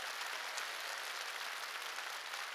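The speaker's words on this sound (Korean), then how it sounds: "박수 치려면 깨달았으면 세게 치라고요." Steady, dense applause from a church congregation during a sermon, sustained and even throughout with no voices standing out.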